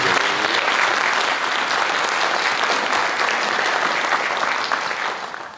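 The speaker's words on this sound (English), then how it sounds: "Round of applause for all the panelists." An audience at a panel discussion gives the panelists a strong round of applause, a loud, sustained burst of many hands clapping that fades slightly at the end.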